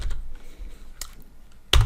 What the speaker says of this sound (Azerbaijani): Enter klik edirik və bir qədər gözləyirik